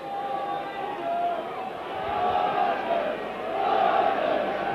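A rugby league crowd at a Castleford versus Leeds match cheering behind Leeds, a distant swelling roar that builds in waves, with a commentator talking over it.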